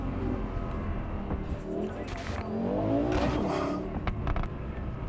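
A fast car racing along in Cyberpunk 2077, engine revving and tires squealing through a continuous loud roar, with a voice talking over it.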